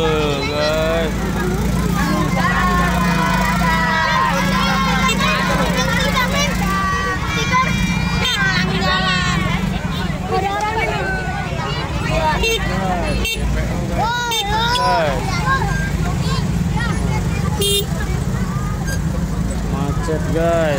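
Busy roadside traffic jam at a pedestrian bridge in Cikupa, with a steady roar of idling and crawling vehicles, repeated horn toots and melodic bus horns, and a crowd chattering and talking throughout.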